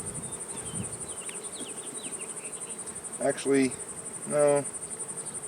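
Honeybees hum in a steady, continuous buzz during a hive inspection while hive boxes are combined, with a person briefly speaking close over the swarm.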